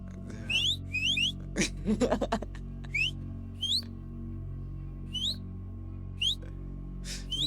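Several short rising whistles from a person, repeated in quick bursts with gaps, close and fairly clear, over a low steady hum.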